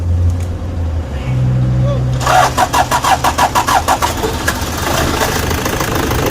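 A Toyota D4D diesel engine with heavy fuel use, sluggish running and white smoke cranks and catches with a loud, rough rhythmic chugging, then settles into an uneven idle as people talk over it.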